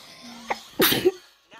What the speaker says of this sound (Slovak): Na zdravie.